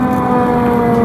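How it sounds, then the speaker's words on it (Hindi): A fire engine siren wails along a Washington DC street, a steady loud sustained tone over constant traffic rumble, with no talk heard. "ये फायर ब्रिगेड जा रही है"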